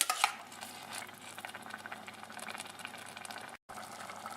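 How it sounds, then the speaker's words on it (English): Lasagne sauce of diced tomatoes and tomato paste simmers in a pan, giving a steady, faint bed of small pops and bubbling with a brief gap near the end. "Once simmered and it's bubbling like this"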